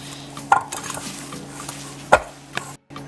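Big whisk working calamansi crinkle cookie dough in a mixing bowl, a steady scraping stir with two sharp clanks of metal against the bowl, close up, no talking.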